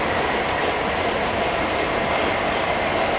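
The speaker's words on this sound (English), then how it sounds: "I figured you should be able to hear the trains" Trains roll along railroad tracks in a dense, continuous rumble and hiss with faint wheel squeals, steady and fairly loud throughout, no voices.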